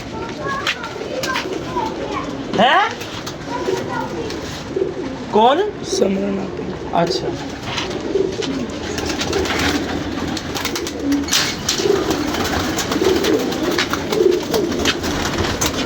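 Pigeons kept by a fancier coo in soft, repeated low murmurs close by, while men chat over and between the calls.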